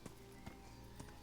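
Horse hooves clip-clop faintly in Kingdom Come: Deliverance, three or four muffled hoof falls spaced evenly in a brief moment against a quiet ambient background.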